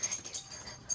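A dog breathes in quick, raspy wheezing puffs, several short rhythmic breaths close to the microphone within a second.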